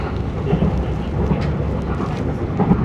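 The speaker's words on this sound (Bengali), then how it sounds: "এদিক দিয়ে এখন ট্রেন ভালোই দ্রুত গতিতে চলে যাচ্ছে ছুটে" A train runs at speed on a Kuala Lumpur route, producing a steady low rumble with faint periodic clacks over a continuous roar.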